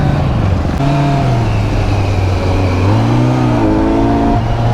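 A Kawasaki Z900 motorcycle on a Mussoorie mountain road, its engine loud and close, droning and rising in pitch through a continuous rev with no voices.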